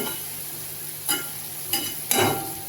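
Tomato sautéed in a pan with salt in a spicy chili and garlic base for an okra dish. Three scraping stirs sound over a faint, steady sizzle.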